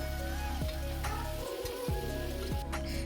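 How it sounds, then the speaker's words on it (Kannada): Tomatoes fry in a pan for egg biryani, giving a steady close sizzle with crackling spatter, alongside a low tonal hum from the stove and a few scraping clunks. "ಟೊಮೊಟೊನ ಹಾಕ್ಬಿಟ್ಟು ಚೆನ್ನಾಗಿ ಫ್ರೈ ಮಾಡ್ಕೊಳ್ಳೋಣ"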